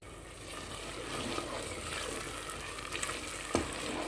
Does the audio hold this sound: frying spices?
yes